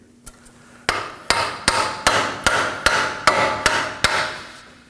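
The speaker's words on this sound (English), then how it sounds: "Now we want to tap on this area to make sure that the spindle moves freely." A hammer taps on the front spindle of a 2014-2020 Acura MDX while the CV axle is being removed. About ten sharp metallic strikes land in a steady rhythm, close and loud, with no talking.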